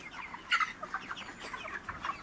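Chickens of about 2 to 2.5 kilograms each clucking close by in short, uneven bursts, with a few louder squawky clucks mixed into a steady barnyard murmur.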